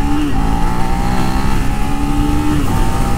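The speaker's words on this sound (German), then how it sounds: "es ist definitiv das Motorrad mit dem emotionalsten Motorsound" A Suzuki SV 650 Classic 2023 V-twin motorcycle engine running loud and close, a steady throaty drone with engine pitch rising and shifting, no talk over it.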